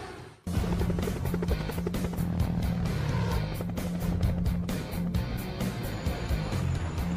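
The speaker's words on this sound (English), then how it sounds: "They wanted a stealth helicopter." A helicopter starts up close and loud, its rotor chopping in a rapid steady rhythm over a deep engine rumble that continues throughout.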